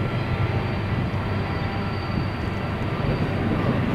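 A Southern Pacific freight train rolls past at the Tehachapi Loop, a steady, loud, close rumble of wheels and engines that holds constant throughout.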